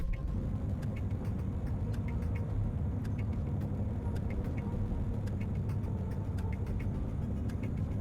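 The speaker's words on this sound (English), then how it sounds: "Now to carefully back up so I don't roll my truck" Truck engine rumbling steadily in the survival game Utopia Colony as the vehicle backs up, a low continuous drone with faint repeated clicks and ticks on top, moderately quiet and unbroken for the whole stretch.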